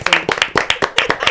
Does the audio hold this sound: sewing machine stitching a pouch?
no